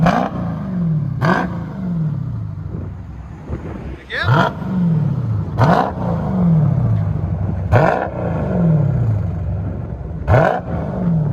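A Dodge Challenger Scat Pack with a 6.4L HEMI V8 and aftermarket resonators gives about five loud, sharp exhaust revs at regular intervals, settling to a deep burbling idle between them, with brief talk nearby.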